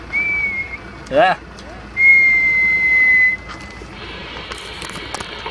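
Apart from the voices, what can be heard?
whistle tone sent over CB radio for antenna test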